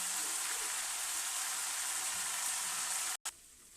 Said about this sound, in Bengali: এবার ভেজে রাখা আলু আর সয়াবিনটা এর মধ্যে ঢেলে দেবো।